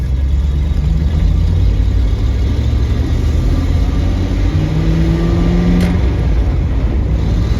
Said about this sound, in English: What is up with all the traffic out here?